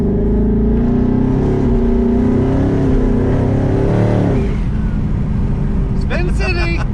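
A twin-turbo Coyote V8 car with a 10R80 transmission roars loudly during a burnout, the engine holding a high, wavering revving drone, then dropping away as tire noise and shouting voices take over.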